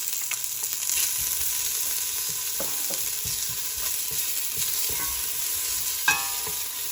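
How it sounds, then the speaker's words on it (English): Sliced onion fries in a pan, a close, even sizzle with stirring scrapes and light utensil knocks, and one sharper clink near the end. "So go ahead and add in our sliced onion"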